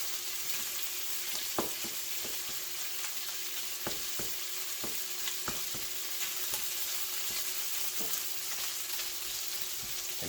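Crappie fillets break apart as they fry with onions in a pan, giving a steady, soft sizzle broken by scattered clicks and taps of a spatula over about ten seconds, with no talking.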